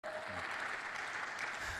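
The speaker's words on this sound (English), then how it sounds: "let's give a warm round of applause" Applause from a conference audience at a healthcare forum, a dense, steady wash of clapping heard at a modest distance, brief and even in level.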